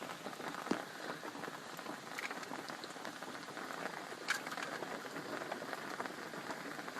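Steady rain patters on surfaces outdoors, a dense even hiss with a few sharper drops, moderately loud and with no voices.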